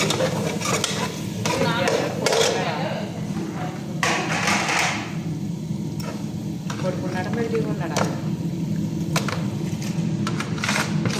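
Masala frying in a pan gives a continuous sizzle under repeated scraping and stirring strokes of a utensil against the metal, close and steady with occasional clinks.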